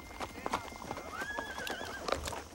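Horses whinny and their hooves clip-clop on hard ground in a tense outdoor scene, with a rising neigh standing out amid steady hoofbeats while voices talk over the top.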